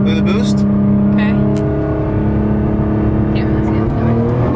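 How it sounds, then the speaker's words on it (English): A Nissan R35 GT-R holds a steady, loud droning engine note with a rising whir while brake boosting from inside the car, heard under people's talking. "you're gonna be able to hear the turbo spool"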